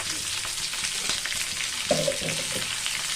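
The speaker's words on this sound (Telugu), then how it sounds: "ఉల్లిపాయ మంచిగా వేగనివ్వండి" Onions fry in a pan for a pepper and chikkudu ginjalu curry, giving a constant close sizzle with a short stirring clatter near the end.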